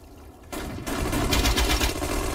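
Gunfire from the World War II strategy game Sudden Strike 4, on a Soviet mission, breaks out as a loud, dense fusillade of rapid shots that keeps rolling without a pause.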